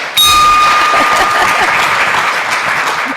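A single bell is struck at a Rotary Club meeting, giving a sharp clang with a ringing tone, followed at once by loud, sustained applause from the room.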